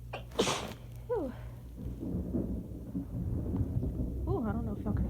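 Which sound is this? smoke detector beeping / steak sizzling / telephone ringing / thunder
thunder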